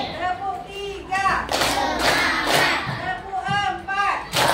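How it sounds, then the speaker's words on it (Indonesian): Schoolchildren in a classroom clap in counted rounds led by their teacher, with bursts of sharp claps alternating with chanting young voices, loud and close. "Sama kita tepuk 1, tepuk 2, tepuk 3,"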